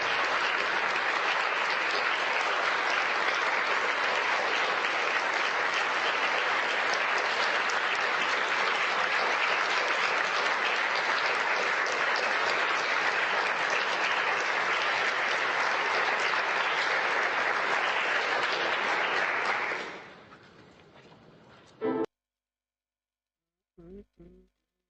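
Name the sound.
applause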